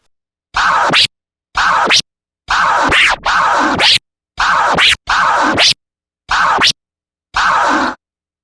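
Rough, uneven turntable scratches in short bursts separated by silence, loud and close, with sloppy back-and-forth record movement.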